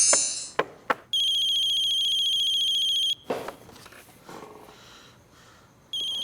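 A bright electronic phone ringtone trills loudly for a couple of seconds, cuts off, then starts again briefly near the end amid faint background noise.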